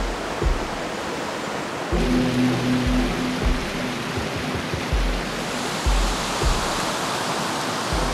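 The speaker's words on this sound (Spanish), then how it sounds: "Este es el río Fuy, sector del puente Huilo Huilo." Water in the Fuy river rushes steadily near the Huilo Huilo bridge as a loud, constant broadband roar. A low tonal hum and scattered low thumps sound underneath it.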